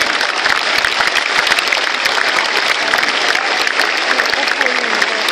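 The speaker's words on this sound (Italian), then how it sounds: "Se volete fare l'applauso è a piacere" An audience at an outdoor evening event in Bojano, Italy, claps steadily and densely throughout, a continuous wash of applause with a few voices faintly mixed underneath.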